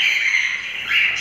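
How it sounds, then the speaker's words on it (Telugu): Breeding pairs of lovebirds kept together give a steady run of high, shrill squawks and chatter, close and fairly loud, with no talking. "లవ్ బర్డ్స్ బ్రీడింగ్ పేర్స్ ఉన్నాయండి."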